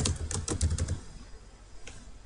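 Rapid clicking of a computer keyboard while an email is written in Outlook.com, a quick burst of keystrokes close by that stops abruptly, followed by quiet with a single faint click.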